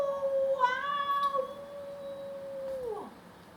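A reader's voice imitating a coyote singing to the moon, a long drawn-out wavering howl that holds steady before sliding down at the end, heard alone and fairly close.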